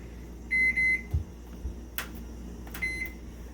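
An oven timer beeps as it is set in a home kitchen: a few sharp, close electronic beeps in short bursts, separated by quiet gaps and a couple of soft clicks.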